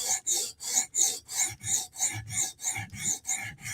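Repeated rasping strokes of a Benchmade S30V steel blade drawn across an abrasive stone on a TSProf Kadet sharpener, about three per second in an even rhythm, close and clear with no talking.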